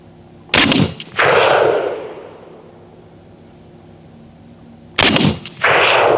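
Two loud rifle shots from a Caracal CAR816 A2 fired toward a steel target at an outdoor range, each a sharp crack followed by a long rolling echo, with a quiet gap of several seconds between them and no talk.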